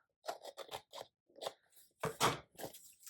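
Scissors trimming a sticker close by, a run of short crisp snips and crunchy cuts in an irregular rhythm, separated by brief silences, with no talk.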